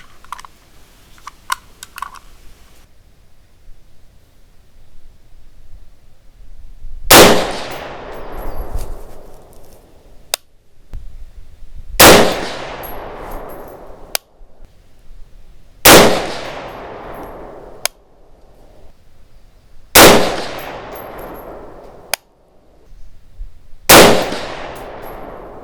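Five loud rifle shots from a 6.5 Grendel firing Accurate 2520 powder loads crack out at a range, evenly spaced about four seconds apart, each followed by a short fading echo, with faint clicks and clatter between shots.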